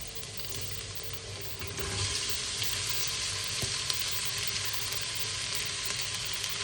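Oxtail for kare-kare, the Filipino peanut beef stew, sizzles loudly in a pan with a steady, unbroken hiss and crackle that swells slightly after the first couple of seconds, with no talking.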